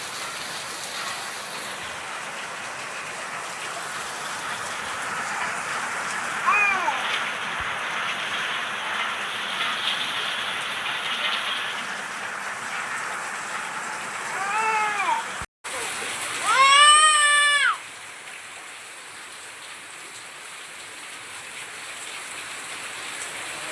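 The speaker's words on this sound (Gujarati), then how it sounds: "ઘેરે વરસાદ ચાલુ થઈ ગયો" Steady rain patters throughout, with a cat meowing several times partway through, louder near the end before the rain continues alone.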